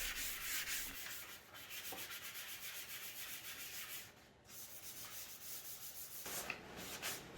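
Steady, soft scratchy rubbing of a 400 grit sanding sponge over a painted furniture surface in repeated back-and-forth strokes, close and fairly quiet.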